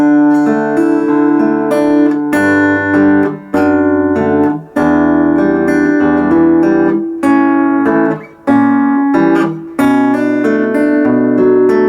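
Clean guitar playing the verse of a song, with rhythmic fingerpicked chords in steady phrases and brief pauses between them, close and clear with no voices.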